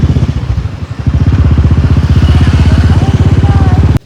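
A motorcycle engine runs close and loud at idle as the bike is parked, with a fast, steady thumping beat that keeps going until it cuts off abruptly at the end.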